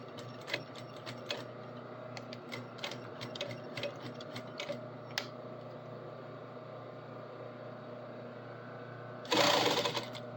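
Sewing machine stitching a pocket seam, a steady continuous mechanical whir with rapid needle ticking and a few sharper clicks, then a louder burst of noise near the end.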